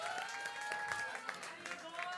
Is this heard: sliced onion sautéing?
no